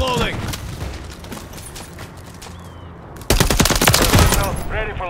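Holger 556 rifle fire in Modern Warfare III: dense rapid bursts of gunshots, moderately loud through the first three seconds, then a louder, sharper close volley near the end, with game voice callouts mixed in.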